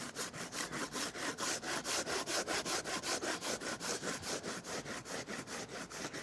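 A tool scrapes a rubber mold casting of a miniature breakaway building smooth in fast, steady back-and-forth strokes, close and continuous without talk.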